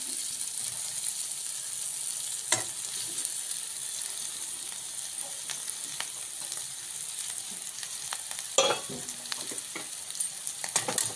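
Boiled potato is sautéed in a pan for katwada, giving a steady soft sizzle with occasional scraping stirs and clinks of a spoon against the pan, close and fairly quiet.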